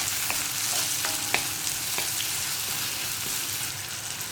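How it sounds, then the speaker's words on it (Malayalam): Tomatoes stirred into a frying kadala curry masala give a continuous sizzling hiss, punctuated by sporadic scrapes and light clinks of a spoon against the pan, with no talk. "തക്കാളി കുക്കാവൊന്നും വേണ്ട കേട്ടോ, ഒന്ന് ഇളക്കി കൊടുക്കുക"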